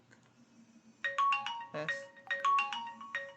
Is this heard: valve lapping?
no